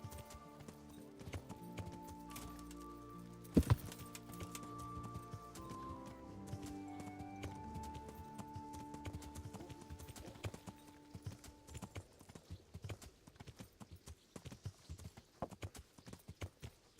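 Steady clip-clop of horse hooves in Kingdom Come: Deliverance, a quick regular trot running throughout under soft sustained game music, with one sharp louder knock early and the hoofbeats growing more distinct toward the end.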